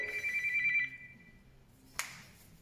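A telephone rings with a steady electronic trill for most of a second, then fades, followed by a single sharp click like a receiver or button, heard close in a quiet workshop.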